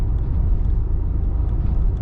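A 2020 RAM 2500 truck drives over a road grate, giving a loud, close, continuous low rumble of tires and chassis with no clear separate impacts, no talking.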